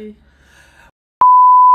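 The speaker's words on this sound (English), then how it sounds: "I'll just beep it out" A quiet voice trails off, then after a short silence a single loud, steady electronic censor beep sounds until the end.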